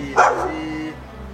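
A single dog bark, fairly close, rising briefly over a steady low background hum with faint talk nearby.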